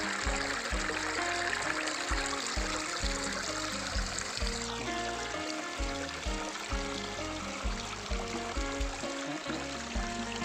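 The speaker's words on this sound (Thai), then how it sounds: "น้ำตกที่เราทำไว้" Water trickles and splashes steadily from a man-made waterfall at a catfish pond, a soft continuous burble with faint low thumps.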